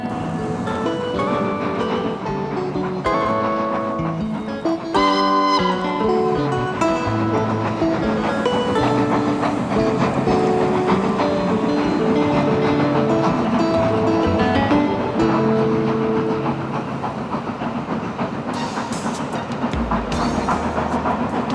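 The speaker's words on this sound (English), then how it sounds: "Passing trains heading for the North Wales coast add to the atmosphere" A train rumbles steadily past through Conwy, Wales, with a rhythmic clatter, loud and continuous throughout, mixed with a busy layer of other sound.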